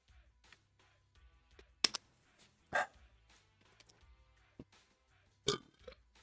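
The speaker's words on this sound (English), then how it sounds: "I just burp a lot." Several loud, separate burps erupt from one person in a quiet room, spaced a second or more apart, with faint background noise between them.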